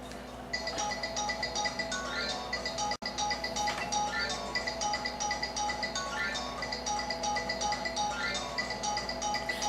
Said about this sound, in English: y'all like the ringtone?